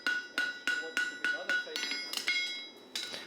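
A striker's heavy hammer rings on hot steel at the anvil while a Clydesdale horseshoe is forged, about a dozen loud metallic strikes in a steady rhythm, clear and close, with a voice talking underneath.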